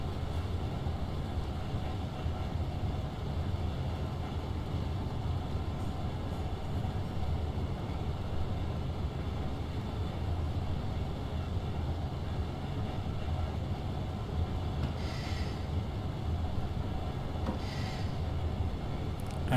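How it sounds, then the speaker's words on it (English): Train in Train Sim World on the Ruhr Sieg Nord route rolls along at speed on flat track, a steady rumbling clatter of wheels and motors with a few brief hissing bursts near the end. "Time to slow down this train."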